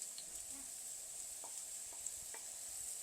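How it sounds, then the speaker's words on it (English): Sliced mushrooms go into a pan of fragrant sautéing garlic, giving a quiet, steady sizzle with a few soft stirring clicks. "So, in this garlic, because the fragrance is coming up, I'm going to add my mushrooms."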